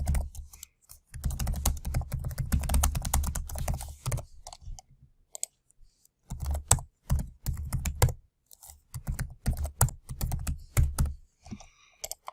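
Steady typing on a computer keyboard while entering a new question in Google Forms, a close run of quick clicking keystrokes with brief pauses between bursts and no talking.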